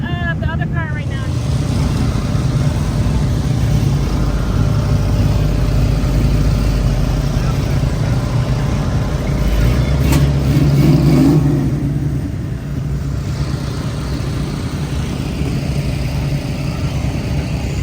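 A classic car's engine runs steadily at an outdoor classic car show, with a loud continuous drone and rumble mixed with wind noise throughout.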